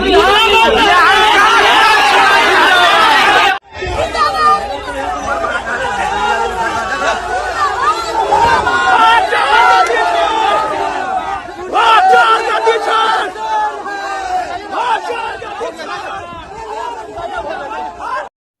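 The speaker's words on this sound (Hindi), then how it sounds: "एक चीज सुन लो, विजय सिन्हा जिंदाबाद हो गया" A political crowd chants Vijay Sinha zindabad, a loud, dense mass of raised voices that briefly cuts off and then resumes with continuous rousing shouting.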